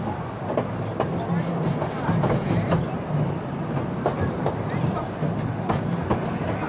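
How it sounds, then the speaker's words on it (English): Rumbling ride on the Dry Gulch Railroad train at Hersheypark theme park, with steady low wheel rumble and occasional clacks throughout, heard close up from aboard while people talk over it. "We're going to ride the Dry Gulch Railroad."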